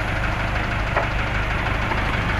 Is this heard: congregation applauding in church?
no